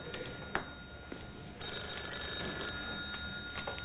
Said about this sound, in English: Would you like to answer the phone?